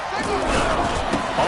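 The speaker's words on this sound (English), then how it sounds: "The crowd here in the Dome making things difficult" Dense, roaring stadium crowd noise fills the Dome in a Madden football game, steady and loud throughout, with a voice talking faintly underneath.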